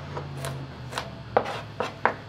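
Green pepper is sliced with a child's cooking knife on a board: a few soft, irregular chopping taps, close and quiet.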